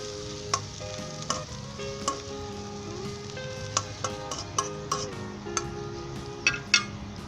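Chicken liver karahi ingredients stirred in a hot pan, with steady sizzling frying under repeated sharp scrapes and taps of a utensil against the metal, close and moderately loud; background music plays throughout.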